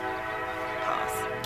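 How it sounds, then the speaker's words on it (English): A train passes in the background, a steady rumbling drone with a horn-like tone rising briefly near the end, continuous throughout under faint voice-like sound. "now that the train is done going in the background"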